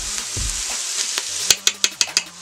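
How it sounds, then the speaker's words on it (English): Onions sautéing on sear mode in a power pressure cooker for lasagna soup, a close sizzle punctuated by a run of five sharp metallic spoon taps against the pot near the end. "The onions are sauteing up here nicely."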